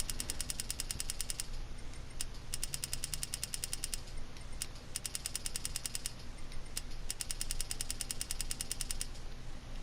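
A Mustang Mach 40 engine in a GT Sport drag run gives a loud, harsh, rapid-fire rattle in repeated bursts, separated by brief gaps as it shifts, with a constant low drone underneath.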